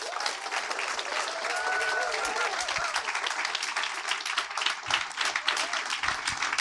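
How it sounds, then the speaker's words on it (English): Audience applause for a speaker taking the stage at a mental wellness event, steady dense clapping sustained throughout at moderate level with no talk over it. "So can we give a huge round of applause to Sean Tillman, please?"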